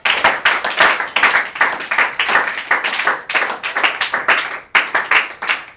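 A church congregation applauds for Jesus with loud, dense, continuous clapping from many hands. The claps form a rhythmic, steady wave that lasts throughout.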